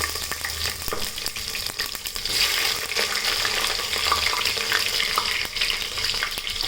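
Chopped onions frying in hot oil for Andhra-style chicken dum biryani, a steady dense sizzle that swells louder after a couple of seconds and runs continuously, close by with no talking.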